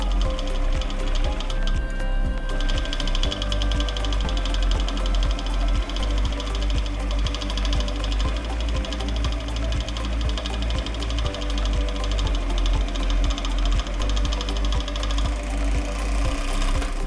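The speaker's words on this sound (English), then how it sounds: "So now we will overlock the closed seam for a nice clean finish." An overlocker sewing machine finishes a closed seam with a steady, rapid mechanical chatter that runs continuously and close by, with no talk over it.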